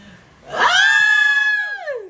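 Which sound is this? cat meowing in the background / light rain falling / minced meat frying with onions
cat meowing in the background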